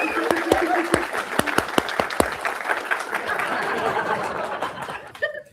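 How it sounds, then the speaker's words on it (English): A small crowd claps and cheers with sharp individual claps standing out, the applause fading away near the end. "Can we give him a good round of applause?"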